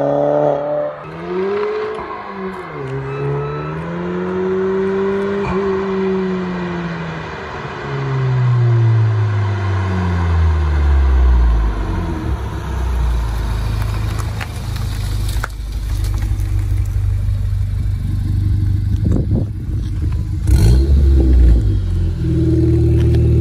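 A Golf 6 revs hard through a new exhaust line, its pitch climbing and sweeping through several loud roaring surges before settling into a deep, sustained rumble with rattling bursts.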